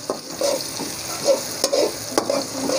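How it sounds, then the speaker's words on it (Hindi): Onions sizzle softly in a pan while a spoon scrapes and stirs them in a few quick strokes. "प्याज हमारा सोते हो चुका है"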